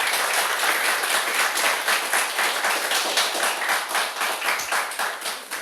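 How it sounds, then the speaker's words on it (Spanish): Steady applause from an audience at a book presentation, dense and even for the whole stretch, with no voices over it. "Un aplauso, por favor,"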